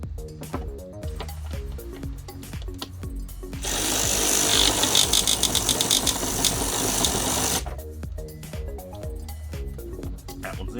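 An 11 mm deep socket on a tool removes a headlight stud on a 2008-2012 Jeep Liberty. It makes a loud, rapid, buzzing burst lasting about four seconds, with background music before and after.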